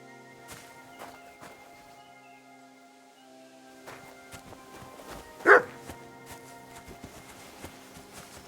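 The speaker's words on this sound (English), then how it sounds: "Barking. He's coming from over there." A dog barks once, fairly sharp and somewhat distant, amid quiet indoor room noise and a few faint footsteps.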